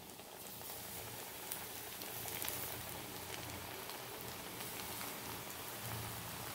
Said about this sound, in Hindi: आता भितर भजी सोडया। तेल बरें तापपाक जाय